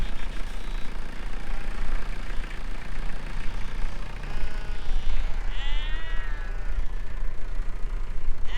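A big mob of sheep bleats continuously on a farm, many overlapping calls near and far over a steady low engine hum.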